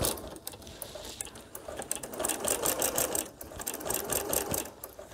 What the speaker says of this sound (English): So I'm going to guide my fabric to go back into.